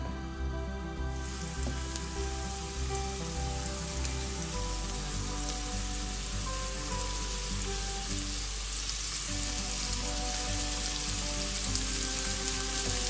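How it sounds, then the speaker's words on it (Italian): Meatballs sizzle and fry in hot oil in a pan, producing a steady, dense crackle that stays loud and even throughout with no talking. "Le faccio rosolare da tutti i lati."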